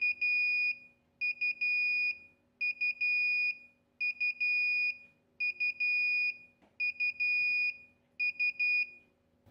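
An INKBIRD ITC-308 temperature controller alarm beeps shrilly in repeated rapid bursts, each a cluster of quick pulses followed by a brief gap, loud and steady with a faint hum beneath.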